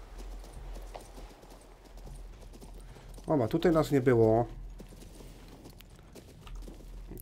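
Horse hooves clip-clop steadily while riding through the fantasy game King's Bounty II, with a brief neigh in the middle. Someone speaks over the ambient game soundscape.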